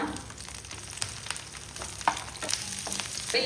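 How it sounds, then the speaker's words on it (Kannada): Half a large onion and a few curry leaves frying in a couple of spoons of hot oil for a mutton dish, a soft steady sizzle with small crackles and pops, close and fairly quiet, no talking. "ಎಣ್ಣೆ ಆಗುವಾಗ ದೊಡ್ಡ ಈರುಳ್ಳಿ ಒಂದು ಅರ್ಧ ಭಾಗದಷ್ಟು ಹಾಗೆಯೇ ಸ್ವಲ್ಪ ಕರಿಬೇವನ್ನು ಫ್ರೈ ಮಾಡುವ"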